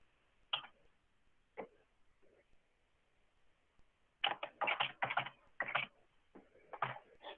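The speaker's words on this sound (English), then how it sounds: "I think you are typing something. Yes, yes. Or you are pressing some keys." Computer keys are pressed close up in isolated clicks at first, then in a quick irregular burst of typing, dry and fairly quiet against silence.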